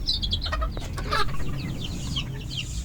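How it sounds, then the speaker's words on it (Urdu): Small chicks and larger chickens mixed together cluck and peep in a steady, busy chorus, with high chirps repeating over a continuous low rumble of background noise. "یہ ٹوٹل تقریباً 20 چوزے تھے چھوٹے"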